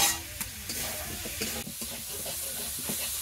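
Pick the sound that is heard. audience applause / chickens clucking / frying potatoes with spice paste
frying potatoes with spice paste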